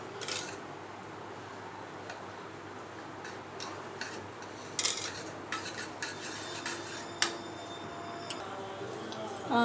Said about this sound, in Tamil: நான் மிக்ஸ் பண்ணி காட்டுறேன் பாருங்கள் உங்களுக்கு.